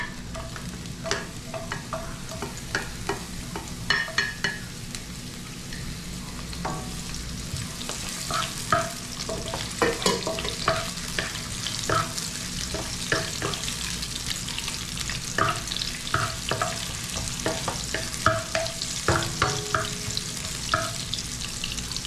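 Garlic and onion sautéing together in a pan, a steady crackling sizzle with frequent clattering stirs over about twenty seconds, close and without speech.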